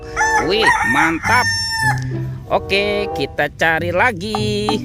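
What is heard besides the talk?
rooster crowing from a toy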